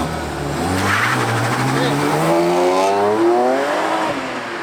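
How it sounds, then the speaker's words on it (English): A Porsche 997 GT3 accelerates hard with wheelspin, its engine climbing steeply in a loud, close revving sweep that rises and then falls, with tyre noise underneath and people's voices mixed in. "At least we're going to get a wheel spin, surely."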